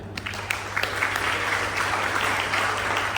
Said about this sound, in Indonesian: Beri aplaus yang baru datang juga.